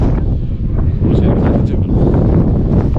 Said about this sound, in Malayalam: ചുറ്റുഭാഗം നല്ല കോട മഞ്ഞ് കാറ്റ്